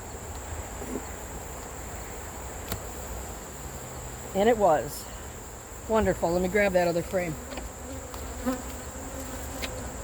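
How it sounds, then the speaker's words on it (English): Honey bees buzz steadily around an open hive in a continuous close drone, while someone speaks in short bursts over it. "There are bees everywhere"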